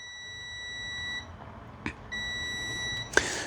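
A multimeter's continuity beeper, used to test motorcycle wiring on a workbench, sounds a sustained high-pitched tone that cuts out briefly and then resumes, with a couple of faint clicks from the probes.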